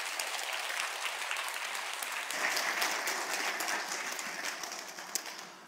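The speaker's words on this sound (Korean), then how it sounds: "큰 박수로 한번 환영해 주시면 감사하겠습니다" Church congregation applauding to welcome the pastor at a Korean church service, dense continuous clapping that swells slightly midway and then tapers off.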